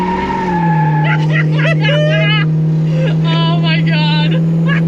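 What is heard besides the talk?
Gen 3 Hemi Gremlin accelerating hard with tires squealing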